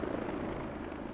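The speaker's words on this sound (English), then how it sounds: "Enemy heli, enemy heli." An enemy helicopter in a video game, its rotor thudding in a steady rapid chop, close and loud for a brief moment with no talk over it.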